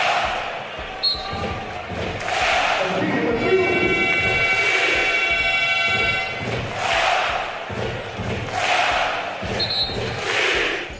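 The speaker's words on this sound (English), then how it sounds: "fans of Maccabi Tel Aviv also bring a ton of noise in a more laid-back style of supporting" Maccabi Tel Aviv basketball fans fill an indoor arena with loud, sustained crowd noise, rhythmic chanting and clapping swelling in waves, with thumps of a bouncing ball underneath.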